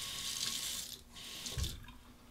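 A straight razor is rinsed under a running tap mid-shave, water streaming steadily and faintly with a brief break and a splash as the blade passes through.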